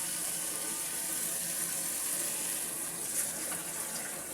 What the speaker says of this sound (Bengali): এবার আমি কষানোর জন্য আরও একটু পানি দেব।